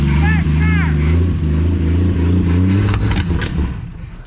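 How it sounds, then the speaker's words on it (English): A 1950s American car engine cranks and catches, running with a steady low rumble and rev changes as someone talks over it. "Crank her up."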